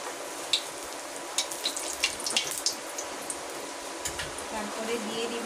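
Dried red chillies sizzle and crackle in hot mustard oil, a steady faint fry with scattered small pops, some spoken voice and faint kitchen clatter mixed in.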